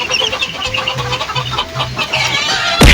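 Raptor Roundhead gamefowl chickens clucking close by, with a steady run of short, repeated clucks and a louder rustle or flap at the end.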